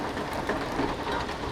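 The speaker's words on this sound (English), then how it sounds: "a lot of the noise, the rain hitting, it's the same thing" Heavy storm rain pelts a surface in a dense, steady, broadband patter with a rumbling undertone, continuous and fairly loud throughout, with no voices.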